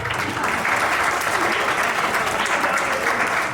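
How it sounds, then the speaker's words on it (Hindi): An audience at a Hindi poetry recital applauds a woman poet, a steady, dense roar of many hands clapping evenly throughout, with no voices over it. "एक बार मैडम के लिए तालियां"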